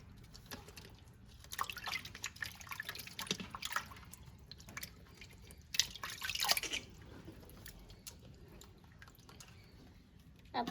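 Sea crabs are washed in water, producing faint, intermittent splashes, drips and sloshing bursts spread unevenly across a quiet stretch.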